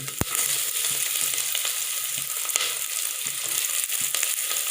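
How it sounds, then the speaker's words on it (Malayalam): Chopped shallots and coconut fry in a pan while being cooked for appam. A dense, steady sizzle fills the whole stretch, with a few scraping stir sounds. "ഇനി അതും കൂടി ഒന്നങ്ങോട്ട് മൊരിഞ്ഞ് വെക്കാം"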